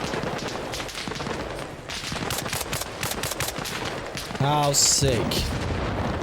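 Mortar fire and explosions in the military game Arma Reforger: a rapid run of sharp bursts and booms, with a clearer impact near the end, while someone talks over the battle.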